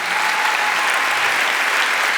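Sustained applause from an audience at a youth salute ceremony, steady dense clapping filling the space at full strength from start to finish with no voices over it.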